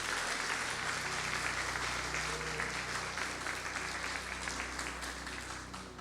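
A church congregation claps together during a prayer service, dense and sustained applause filling the room at a steady level throughout.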